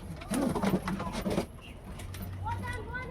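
Domestic pigeons kept in a loft coo softly up close, with a low rolling coo near the start followed by quieter bird calls, while a person talks over part of it.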